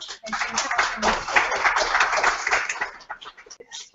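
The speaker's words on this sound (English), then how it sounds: "A round of applause to Stephanie." A small group at a UX meetup claps for Stephanie, a brief patter of hands that thins out into scattered individual claps toward the end, close and uneven.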